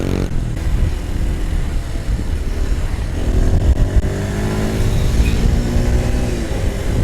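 Kawasaki KLX230 motorcycle engine pulling hard and climbing in pitch as it accelerates through an overtake on a road in Bali, loud and close with steady wind rush around it.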